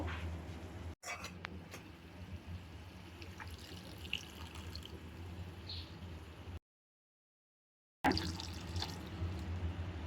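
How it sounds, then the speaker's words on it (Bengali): Water is poured into a pan of cooking chicken roast, giving a soft, faint trickle and splash with light dripping, broken by a short silent gap. "আমি সামান্য একটু পানি এড করবো"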